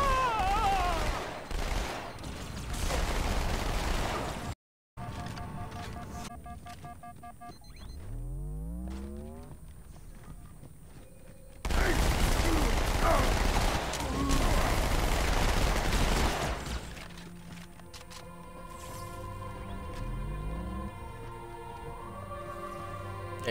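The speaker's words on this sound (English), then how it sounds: "I love the SMG." Submachine gun fire in a video game comes in bursts of rapid shots, loud and close, mixed with game sound effects, mechanical clanks and tonal sweeps, with a brief dropout near the start.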